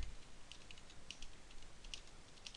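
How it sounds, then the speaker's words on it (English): Faint, quiet typing on a computer keyboard: scattered light key clicks in irregular short bursts over low background hiss, with no voices. "this is what you want to type in"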